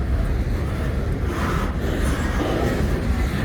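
Kiamichi Railroad SD40-2 and SD40-T diesel locomotives roll past in Idabel, Oklahoma, with a loud, close, steady rumble of engines and wheels that holds for the whole stretch, and no one talking.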